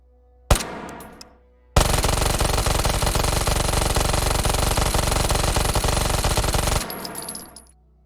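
A Glock pistol fitted with a Radian Ramjet fires a single loud close shot, then after a short pause a long, fast, continuous full-auto burst that rings out with echo and then stops abruptly.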